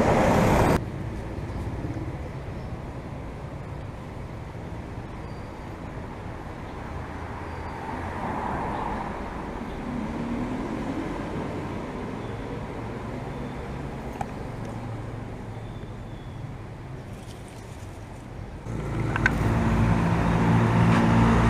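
Buses and other traffic rumble through Phuket Old Town in Thailand in a low, steady roadway drone at a moderate distance. Louder bursts of nearby engine noise open and close the stretch, with no talk.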